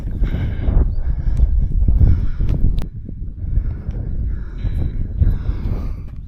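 Gusty wind buffets a microphone on an open hilltop along the Ridgeway, a loud rumbling roar that rises and falls throughout with no other sounds clear.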